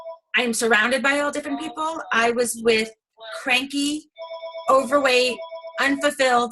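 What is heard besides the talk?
mobile phone ringing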